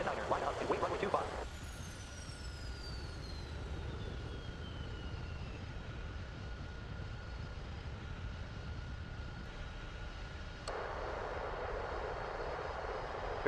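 An Air India Boeing 747-400 at takeoff, a steady distant engine roar with a rising whine sweeping across, held under a constant hum.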